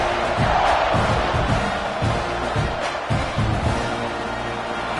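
Stadium crowd roars in the College Football 26 video game as the defense takes the field: a continuous loud wash of cheering voices with rhythmic surges of chanting and whoops, steady throughout.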